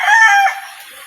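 A single loud, close chicken call, a rising squawk that fades quickly.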